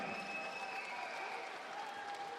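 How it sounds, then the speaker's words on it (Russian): Applause for both fighters after a five-round 61 kg title bout at a Kyrgyz combat sports event, heard as a steady, fairly faint wash of crowd clapping with no voices over it. "Аплодисменты обоим бойцам."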